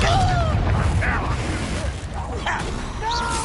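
Deep booming blasts and crackling bursts from the Confringo explosion spell in Hogwarts Legacy, thudding through a busy combat soundscape with a few short tonal effects layered on top.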